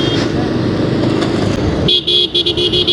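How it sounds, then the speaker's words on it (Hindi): A Bajaj motorcycle's horn honks in a series of short toots after a stretch of engine and traffic rumble. The honks come close and fairly loud, with brief gaps between them. "अभी का हॉर्न जो लगाया हुआ ये बजाज का हॉर्न तो थोड़ा सा कम लाउड ही होगा"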